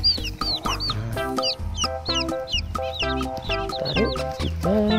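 Chickens cluck loudly and repeatedly at close range, with overlapping short calls and squawks in an uneven rhythm, while ducks are kept nearby.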